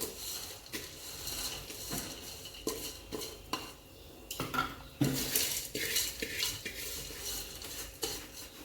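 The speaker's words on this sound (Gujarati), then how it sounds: "અને સારી રીતે ચાસણીમાં ગુંદીને મિક્સ કરી લેવાની છે" A spoon clinks and scrapes against a pot while fried boondi is stirred into sugar syrup flavored with cardamom powder, in repeated close, irregular strokes with a soft, sticky patter; no one talks.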